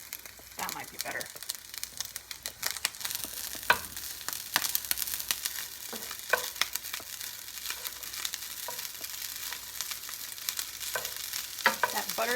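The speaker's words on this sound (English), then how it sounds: "here's where you start really stir frying that rice" Steady sizzling and crackling of rice being stir-fried with butter in a hot pan, with scraping stirs and occasional clinks throughout, loud and close.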